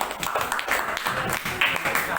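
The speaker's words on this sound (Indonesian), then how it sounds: "Beri aplaus untuk kelompok kinestetik" A student group at a school class session is clapped for, a short burst of scattered hand claps from a small crowd, mixed with voices talking over it.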